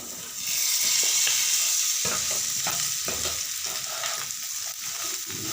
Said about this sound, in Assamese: পটল আৰু আলুখিনি দি দিলোঁ।